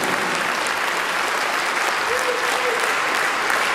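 Loud, continuous applause from a concert audience at a patriotic concert, many hands clapping together in a dense steady roar calling for an encore.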